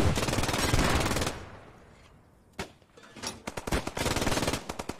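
Gunfire in the World War II shooter Post Scriptum: loud, rapid machine-gun bursts open the clip, give way to a brief lull with a single crack, then resume as stuttering volleys and another sustained burst.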